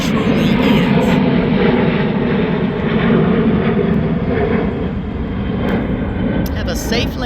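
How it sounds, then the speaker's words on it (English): An airplane passes low overhead on its landing path near an airport, a loud, sustained engine roar that holds steady and then eases slightly toward the end. "I live under this airport path, and I'm always out here telling these planes, have a safe landing"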